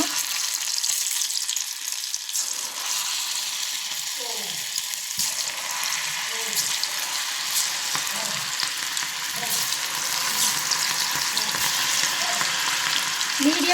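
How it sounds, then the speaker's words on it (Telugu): Battered cauliflower pieces for gobi manchurian deep-fry in hot oil, making a loud, dense, continuous bubbling hiss with occasional soft clatters as more pieces are dropped in. "ఇప్పుడు మనకి ఆయిల్ బాగా కాగింది ఇంకా వేసుకున్నాము ఒక్కొక్కటిగా"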